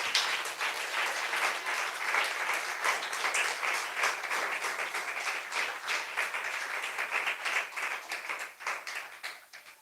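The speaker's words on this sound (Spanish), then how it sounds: "dele un aplauso al Rey de Reyes" A church congregation at a Spanish-language worship service gives a long, dense round of applause that stays loud for nearly ten seconds before thinning out at the end.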